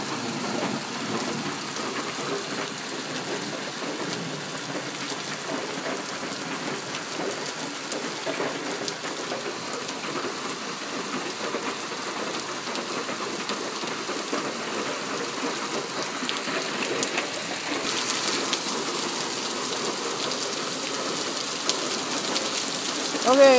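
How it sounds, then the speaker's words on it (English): Heavy rain after a June hailstorm falls as big raindrops, a steady dense patter on surfaces that holds throughout and grows slightly louder near the end, with faint distant rumble. "the hail is turned into just really big raindrops"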